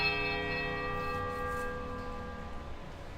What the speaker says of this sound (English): The bell tolls a high piercing note of power.